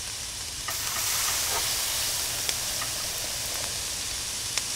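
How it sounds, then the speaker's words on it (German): Kebab meat sizzles on a grill in the cooking game Kebab Chefs, a steady bright frying hiss with faint crackles throughout and no talk. "Das brutzelt schön durch."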